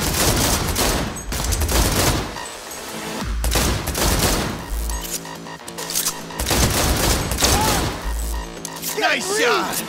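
Rapid bursts of gunfire and booming shots from a Cyberpunk 2077 firefight crackle in repeated volleys, loud and close, with shouting voices breaking in between.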